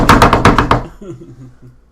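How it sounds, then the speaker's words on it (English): Loud, close pounding on a door, a rapid burst of about six heavy knocks followed by fading resonance and quiet. "Someone is banging on your door."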